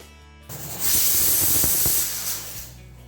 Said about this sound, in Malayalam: ഒരു വിസിൽ വന്നിട്ടുണ്ട്.